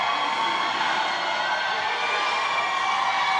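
Roller derby crowd at a Halloween tournament, a steady, dense wash of cheering and shouting that holds at an even level throughout, loud and continuous, with no single voice standing out.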